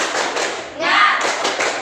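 A group claps together in a rhythmic classroom cheer, the sharp hand claps dense and close, swelling midway and continuing in steady bursts.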